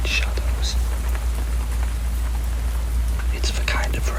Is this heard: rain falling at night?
yes